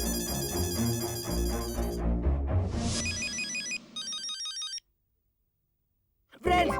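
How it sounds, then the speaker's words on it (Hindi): A telephone rings loudly over music in a Hindi TV comedy scene, its repeated electronic ringtone bursts continuing after the music cuts out, then ringing again briefly after a short silence. "मेहता अंकल का फोन है।"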